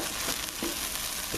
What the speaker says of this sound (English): Now we're going to put the bacon.